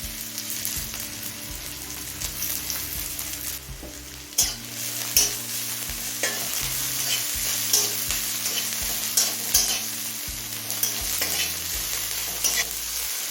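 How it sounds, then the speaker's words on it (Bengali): Six finely chopped small onions frying with cumin in hot oil for loti chicken, a loud continuous sizzle broken by repeated clanking stirs of a utensil against the pan. "এবার একদম ছোটো সাইজের কুচুনো পেঁয়াজ দিচ্ছি ছটা"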